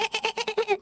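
A pet cat chirps at birds in a quick, even run of about seven nasal, chattering chirps, close and fairly loud, with no talking over it.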